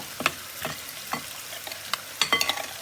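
Onions with spices are stirred around in a hot pan for chicken curry, giving a series of scraping, sizzling bursts at an irregular rhythm, close and clear with no talk.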